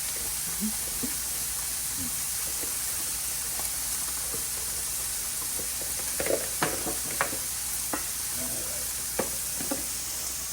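Pasta carbonara ingredients frying in oil in a pan, a steady bright sizzle with intermittent pops and spits scattered throughout, close and continuous.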